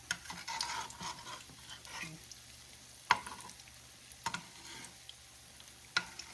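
Corn bread batter frying in a skillet, a steady close sizzle punctuated by occasional sharp clinks and scrapes of a utensil moving it around.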